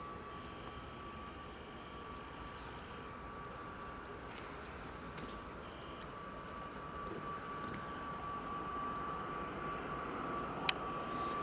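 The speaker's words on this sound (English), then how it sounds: "now he's taxiing up the old runway" A Ryanair airliner taxiing at Edinburgh Airport near runway 24, a steady distant engine drone with a faint tonal whine, holding level throughout with a slight rise at the end.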